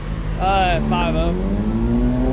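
A car with a Voodoo 5.2-liter engine revs up loudly and close at a car meet, its pitch climbing steadily while people talk nearby.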